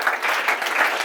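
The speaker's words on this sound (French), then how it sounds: "Sous vos acclamations" A congregation at a church gathering bursts into applause for a visiting apostle, a brief, dense patter of clapping hands that stays fairly loud throughout.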